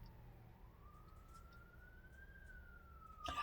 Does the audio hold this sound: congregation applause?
no